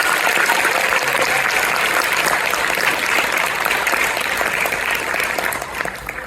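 Audience at a 7th grade winter orchestra concert applauds for student speakers: loud, sustained clapping from a full room that tapers slightly at the end.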